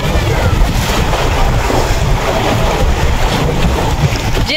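Strong wind and surf at Diniwid Beach in Boracay, a loud, steady roar of gusts buffeting the microphone over the continuous wash of waves, with no break throughout.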